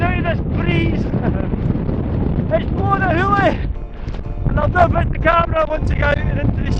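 Strong wind buffets the microphone on an exposed mountain top, a constant loud rumbling roar, while someone talks over it in short bursts.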